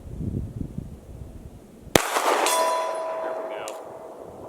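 A single sharp pistol shot cracks at an outdoor range in snow, followed by a sustained metallic ring from a struck steel target; someone talks quietly just before the shot.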